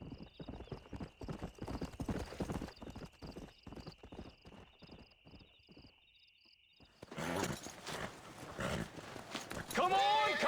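Horse hooves clip-clopping in Red Dead Redemption, a steady close rhythm of hoofbeats that stops and then gives way to a whinny and voices talking.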